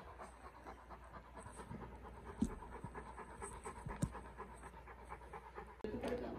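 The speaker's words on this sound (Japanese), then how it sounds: "ルンルン騒いでるぞ。 番犬やってるぞ、ルンルンが。" Dog panting rapidly and steadily close by in a backyard, with a few sharp knocks and rustles and people talking softly in the background.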